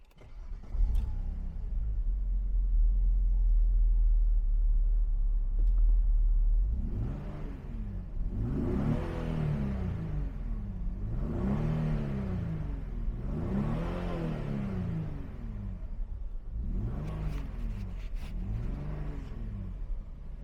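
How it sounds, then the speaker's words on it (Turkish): A 1998 Opel Omega 2.5 V6 engine cranks and catches, idles with a low rumble, then is revved several times in rising and falling surges, close and loud. "Öncelikle arabayı bir çalıştırıyorum."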